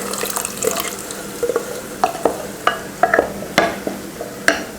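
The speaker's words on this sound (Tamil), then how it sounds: "பருப்பு ரொம்ப கெட்டியாக இருக்கிறதுனால தண்ணியும் சேர்த்துக்கிறேன்." Water poured into a pan of thick dal being cooked with softened tomato, with splashing and stirring clatter in short bursts, close and fairly loud, no voices.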